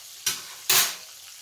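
Pork chops hit hot frying oil in a kitchen pan, giving two short, loud sizzling bursts a moment apart that quickly die away to a faint hiss.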